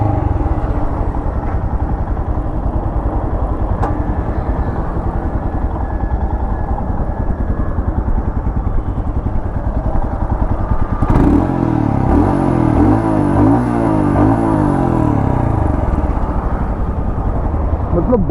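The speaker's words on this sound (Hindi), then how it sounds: "रुक के मैं आपको उसके एग्जॉस्ट नोट भी सुना देता हूँ" A Royal Enfield Scram 411 motorcycle idles with a loud, close, steady thumping exhaust note, holding a rhythmic single-cylinder beat throughout with some added clatter in the latter part.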